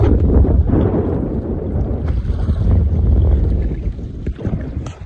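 Oars pull slowly through the water of a heavily loaded rowing boat at sea, heard as a loud steady rush of water and wind noise with faint creaks and splashes.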